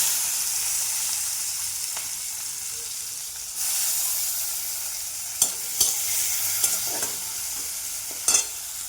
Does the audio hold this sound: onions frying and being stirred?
yes